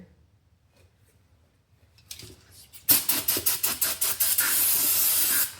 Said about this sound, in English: And spray off the calipers.